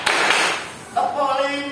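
A burst of clapping from a class of children fills the first half, then a voice chants over quieter clapping.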